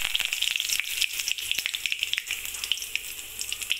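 Mustard seeds splutter and pop in hot oil, a dense close crackle of sharp sizzling bursts over a steady frying hiss with no voices.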